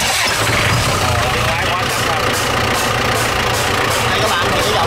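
A 46-horsepower off-road tractor engine is cranked and fires, settling into a loud, rough, continuous running rumble close by, with talk over it.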